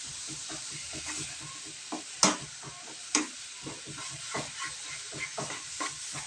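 A spoon stirs roasted eggplant mash (vangyache bharit) in a hot pan, making quiet rhythmic scraping strokes over a soft, steady sizzle, with a couple of sharper clanks.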